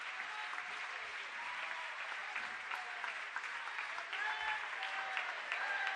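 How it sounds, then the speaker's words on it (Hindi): Loud, sustained applause from an audience at a religious discourse, steady clapping throughout with a slight swell toward the end. "तालियों का महोत्सव होता रहना चाहिए, जोरदार तालियां।"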